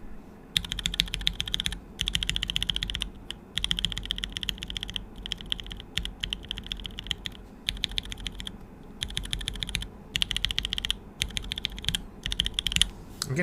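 Mechanical keyboard fitted with dark amber switches, typed on up close in steady bursts of soft, muted key clacks separated by short pauses.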